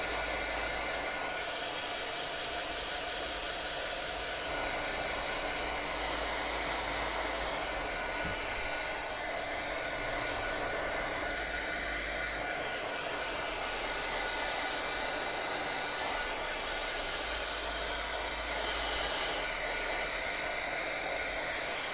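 A heat tool blows steadily and loudly for the whole stretch, drying paint on a canvas wall hanging with an even, unbroken rushing hiss.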